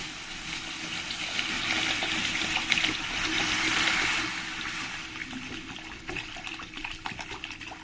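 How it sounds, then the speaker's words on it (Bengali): Water poured into a spice masala for a fish curry, a steady gushing pour that swells in the middle and then thins to trickles and light splashes, close and moderately quiet. "এবার আমি মশলার মধ্যে জল দিয়ে দেবো"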